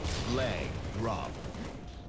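Bursts of gunfire ring out in a capture-the-flag match on the Zealot map of a shooter video game, with two closely spaced volleys at moderate loudness over a constant bed of game noise.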